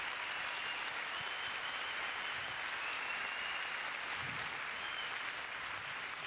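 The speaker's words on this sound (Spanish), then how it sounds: "Vamos a darle un fuerte aplauso entonces." An audience at a Spanish-language church talk gives a sustained round of applause, dense steady clapping from a large crowd heard at a moderate distance throughout.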